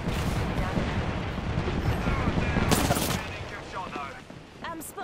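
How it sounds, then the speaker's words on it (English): Apex Legends gameplay brings dense rapid gunfire and bursts of shots for about three seconds, then sparser firing and game effects trail off. "I'm spotted, taking fire."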